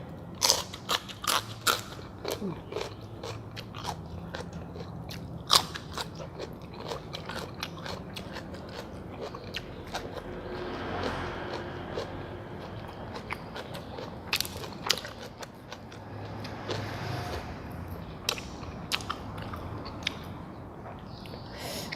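Crunchy food chewed close up, with crisp crackers and fresh vegetables eaten alongside canned-fish chili paste; irregular crackling bites and munching sound throughout, fairly quiet, with no talking.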